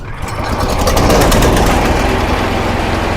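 A new Senci engine fitted to an old road cutter runs loud and close, a dense, steady mechanical roar that builds slightly at the start and then holds.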